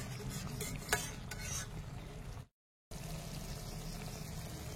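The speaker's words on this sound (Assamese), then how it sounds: "এয়া পটলৰ মছলা গ্ৰেভি ধুনীয়াকৈ উতলি আছে।" Pointed gourd masala gravy simmers in a covered pan over low heat, giving a steady soft bubbling and sizzling hiss that drops out briefly in the middle before resuming.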